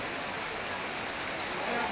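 Continuous rain hiss, steady and fairly soft, with no distinct drops or voices standing out.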